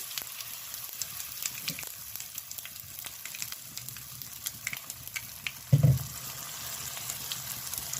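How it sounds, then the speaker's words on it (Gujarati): Handvo batter poured into hot oil tempered with mustard seeds and sesame, giving a continuous soft sizzle and crackle close by, with a brief louder burst midway. "એમાં જ આપણે બેટર નાખી દેવાનું છે।"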